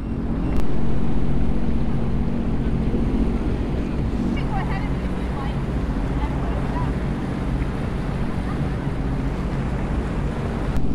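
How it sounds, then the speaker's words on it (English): A boat idles slowly at about 8 km/h up a shallow channel toward historic bridges, its steady low engine rumble running continuously beneath wind buffeting on the microphone and a wash of water noise. "So basically what we're doing is just idling up here."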